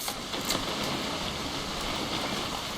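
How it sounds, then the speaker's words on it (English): Rain falling in the video game What Remains of Edith Finch, a steady dense hiss of rainfall with a few faint knocks, constant and even throughout. "It's gonna rain the whole weekend, isn't it?"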